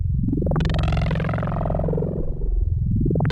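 A pitch-shifted shriek meant as a gelatinous cube in a game song gives a gross, wobbling wail that swoops up and slowly slides down over a low rumbling bed, rising again at the end.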